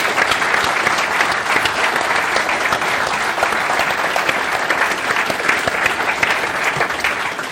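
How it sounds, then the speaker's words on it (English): A large audience applauds a round for Stellantis, hosts of a live audience Q&A in Coventry, with steady, dense clapping that holds at full strength throughout without a break. "Can we Stellantis. give Stellantis a round of applause?"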